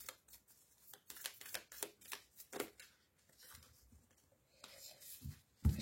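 Quiet, close shuffling of tarot cards, a run of soft riffling snaps and brushing slides, then a pause and a few more card movements, with no one speaking.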